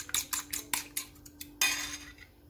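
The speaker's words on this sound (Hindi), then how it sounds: "अब कबाब फ्राई करने के लिए सबसे पहले एक अंडा लेके इसको फेंट लें" A fork or whisk beats an egg in a bowl for coating shami kebabs, giving about eight sharp, quick clinks in an uneven rhythm, close and fairly quiet with no talk.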